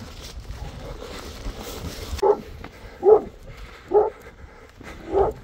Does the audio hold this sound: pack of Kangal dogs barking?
yes